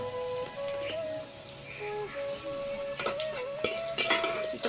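Whole spices and onion frying with cinnamon in a pan, a steady hiss of sizzling with occasional stirring scrapes and clinks growing louder toward the end.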